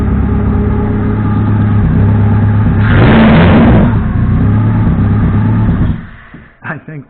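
A WAR Corsair replica aircraft engine runs a little rough with an intake starving a cylinder for air, a steady close droning hum that surges louder briefly mid-way before fading.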